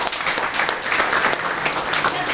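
Audience applause at a seminar-style talk, a dense burst of many hands clapping, loud and close, filling the whole short stretch without pause.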